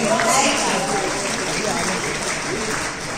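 Steady, dense applause from an audience fills the whole stretch, a continuous wash of clapping that tapers slightly toward the end.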